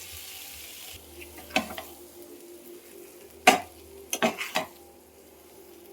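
Chopped banana flower stirred into hot spiced oil in a pan, with a few sharp metallic scrapes and clinks of a spoon against the pan spread over a faint, low sizzle.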